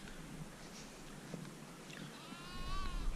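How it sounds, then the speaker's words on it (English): Sheep bleating out on an open hillside, a few wavering calls rising near the end over steady wind noise, fairly distant and alone. "There's a crazy sheep."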